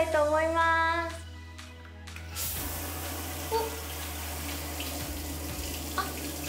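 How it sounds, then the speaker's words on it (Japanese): A shower in a rental villa bathroom with a jet bath bursts on after a brief tonal squeak and settles into a strong, steady rush of spraying water close by. "これのシャワーチェックをしたいと思います"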